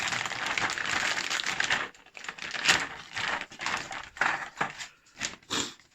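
Plastic packaging holding Ecto-1 model kit parts being cut open and handled, giving close crinkling, rustling and snipping bursts, dense at first and then in shorter broken spurts with pauses between.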